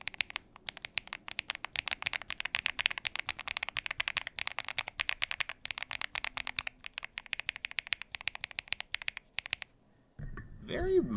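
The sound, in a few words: typing on a computer keyboard with the new keycaps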